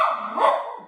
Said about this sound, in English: The other dogs, I locked them outside because they kept barking